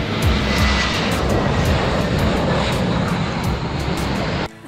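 Fixed-wing airplane taking off or landing at Gibraltar airport, where the runway crosses a main road; a loud, steady engine roar fills the whole stretch, close and sustained, then cuts off abruptly at the end.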